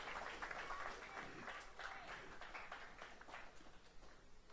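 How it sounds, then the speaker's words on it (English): Applause from an audience at a secondary school graduation ceremony, a steady wash of many hands clapping that fills the whole stretch without pause. "Let's give them a round of applause."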